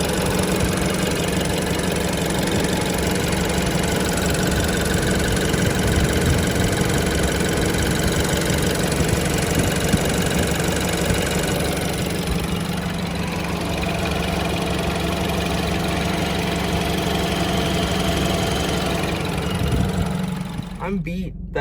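A BMW F30 car engine runs steadily at idle with a low, rough, knocking rumble that keeps going close by for over twenty seconds, fading slightly near the end.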